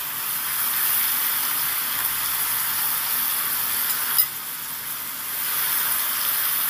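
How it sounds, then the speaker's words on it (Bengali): Soaked, drained rice goes into a pan of frying potatoes, soybean and spices, giving a steady close sizzle and hiss with a brief clatter of stirring partway through. "সব চালগুলোকে আমি আলু, সয়াবিন আর মশলাটার মধ্যে দিয়ে দেব।"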